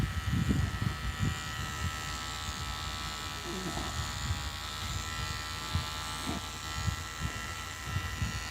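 Electric hair clippers buzz steadily through a shave during a haircut at a Philippine barbershop on a rainy day, close and continuous, with brief low voices underneath.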